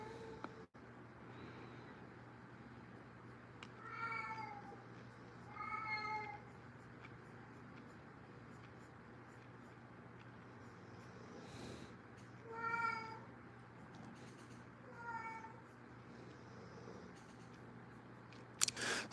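A pet cat meows loudly and dramatically, several drawn-out cries spaced a few seconds apart over a quiet indoor hum, with a sharp click at the very end.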